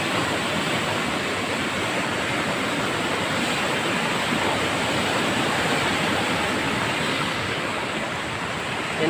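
Loud, steady roar of rushing floodwater under a cracked bridge after heavy rain, a dense unbroken wash of noise that never lets up, with no voices.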